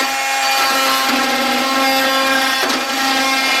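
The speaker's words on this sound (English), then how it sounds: "Old Jeremy might have gotten carried away with the power tools again because he chopped the shnikes out of this thing" Power tool cutting through damaged plastic bodywork from a snowmobile, quad or dirt bike, a loud continuous whining drone with a steady pitch that holds for several seconds without a break.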